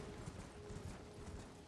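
Horse hooves clip-clopping in the video game Elden Ring, a quiet, even trot of soft hoof beats under a low background hum.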